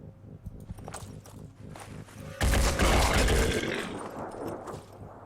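Gunfire erupts in the turn-based strategy game Phoenix Point, a loud sustained burst of shots after quieter game ambience and footstep-like sounds, then tailing off into background noise.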